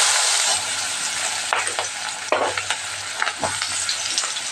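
Onions dropped into hot oil in a pan for a brinjal curry, a strong bright sizzle that settles as a spoon stirs with intermittent scrapes and taps, close up.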